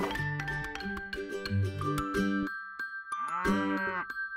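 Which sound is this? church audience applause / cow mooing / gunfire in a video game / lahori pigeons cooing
cow mooing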